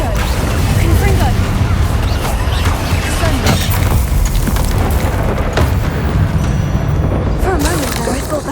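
A dense, roaring barrage of Confringo blasting-curse explosions in the In The Shadow of Time game, with booms and cracks piling up continuously and loudly throughout, mixed with other spell effects and battle noise.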